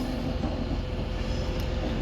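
Pendolino electric trains pulling out of Manchester Piccadilly bound for London Euston, a steady close rumble of wheels and traction with no talking over it.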